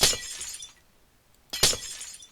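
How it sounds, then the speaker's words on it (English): Stone blocks smashed by a Lycanites tool in the video game Minecraft, two loud crunching breaks about one and a half seconds apart, each fading quickly, with no speech. "if I hit anything stone, it is going to be smashed beyond all recognition"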